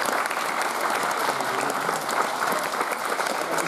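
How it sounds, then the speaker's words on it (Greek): Sustained applause from an audience at a local community gathering, dense and steady clapping throughout with no breaks, fairly loud and close. "σε αυτά θέλουμε το χειροκρότημα εδώ στην τοπική κοινωνία να το αποδώσουμε στα παιδιά"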